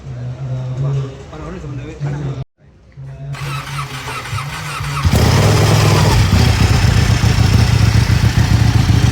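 A motorcycle engine cranks, briefly cuts out, then catches and settles into a loud, steady idle that grows into a rough rumble, close by.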